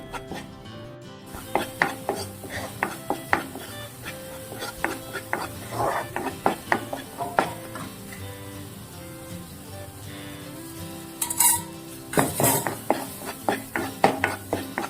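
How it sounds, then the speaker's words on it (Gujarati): Flour for sukhdi roasts in a pan after milk is added, stirred with irregular scraping and metallic clinks of a spoon against the pan over a soft, steady sizzle, close and moderately quiet. "બે ચમચી દૂધ નાખ્યા બાદ આપણે થોડીક વાર એમ જ શેકીશું"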